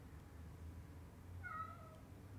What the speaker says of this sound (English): He's meowing at me.